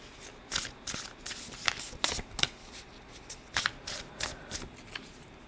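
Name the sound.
shuffling a deck of cards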